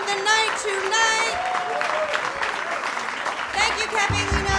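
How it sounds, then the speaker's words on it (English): Audience at a live music session at Caffe Lena applauding the sound engineer, clapping and cheering heard as a steady crowd wash with whistles and voices over it. "a round of applause for Joe, who is sound engineering the night tonight"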